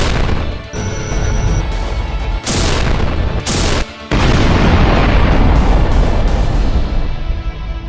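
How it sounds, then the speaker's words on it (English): Main cannons fire in a Lego space-battle animation, giving heavy, booming explosive blasts with crashing, rumbling tails. The bursts come in quick succession, loud and close, and end in a long rolling roar. "Firing main cannons."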